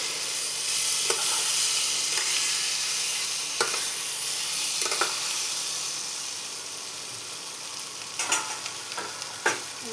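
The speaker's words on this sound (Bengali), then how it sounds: "একবার একটু নাড়িয়ে দেব" Potatoes fry in a pan with a steady sizzle while a spoon stirs them, giving scattered scraping clicks and a cluster of sharper knocks near the end.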